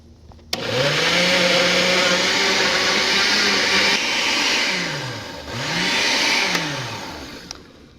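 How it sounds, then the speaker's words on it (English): A blender purees spicy honeydew soup with a loud, steady whirring roar, its pitch dipping and rising as the load shifts, close and alone for several seconds. "Depending on your blender, you may need to let it go for more or less time."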